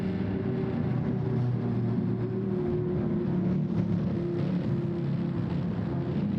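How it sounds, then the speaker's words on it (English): Many race car engines drone together at the start of a Gran Turismo 7 race at the Nürburgring, a continuous loud, dense roar with steady tones and no talk. "Don't you just love hearing all those engines at the beginning?"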